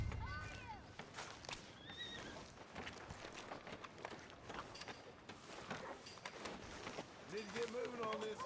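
A horse in the video game Red Dead Redemption 2 whinnies several times amid clip-clop hooves and town ambience, with characters talking over it.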